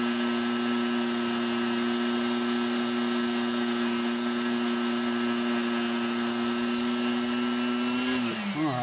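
A power tool whines steadily while buffing a carved rock with buffing compound. The loud, even drone runs continuously and then winds down near the end.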